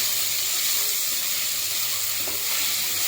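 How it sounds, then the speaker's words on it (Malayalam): Chopped onions sauté in a pan for a Kerala bhaji curry, giving a continuous dense sizzle and hiss, close and even throughout with faint stirring beneath. "2 സവോള അരിഞ്ഞത്, അതും കൂടെ നമുക്കിട്ട് വഴറ്റിയെടുക്കാം"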